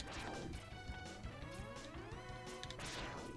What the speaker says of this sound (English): If you keep shooting this, eventually it will break.